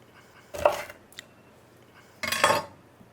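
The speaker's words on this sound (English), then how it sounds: "So just grab one of the jalapeno peppers, and we'll just cut straight down" A knife slices straight down through a jalapeño pepper on a cutting board, giving two short, crisp cuts about two seconds apart, close and fairly quiet.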